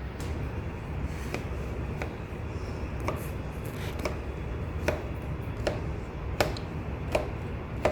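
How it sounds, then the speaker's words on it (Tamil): A knife cuts down through layered, stuffed baklava, giving a regular series of crisp taps and crunches, about one per second, over a low background hum. "இந்த மாதிரி நல்லா அடி வரைக்கும் கட் பண்ணி விடணும்"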